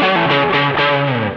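Distorted electric guitar playing through a CABZEUS stereo speaker simulator set to Five Twin cabinet emulation, a continuous saturated chord line with heavy sustain, loud and close, no voices.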